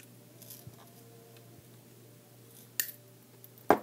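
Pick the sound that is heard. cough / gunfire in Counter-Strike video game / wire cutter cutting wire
wire cutter cutting wire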